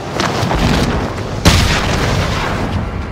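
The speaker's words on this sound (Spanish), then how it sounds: "Y casi esa explosión" An explosion in the online shooter Call of Duty: Modern Warfare Warzone lands as a sudden loud boom midway, cutting through a steady wash of game noise and rumble before and after.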